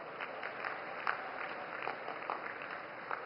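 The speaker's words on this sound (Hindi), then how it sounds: "मैं सबसे निवेदन करता हूं कि जोरदार ताली बजाकर उनका" A large crowd at a Madhya Pradesh election rally claps to welcome a speaker, a dense steady patter of applause heard at a moderate distance without any talk.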